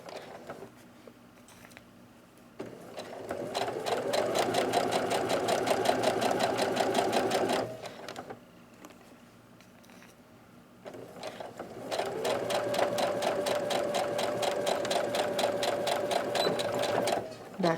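Sewing machine stitching the seam of a fabric mask, with two long steady bursts of fast close-up whirring and chattering and a constant hum between them, separated by brief pauses.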